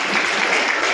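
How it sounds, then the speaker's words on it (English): An audience claps steadily at a karate black belt ceremony at IIT Bombay, a dense, even wash of applause from a crowd indoors, loud and continuous throughout. "Give a big round of applause."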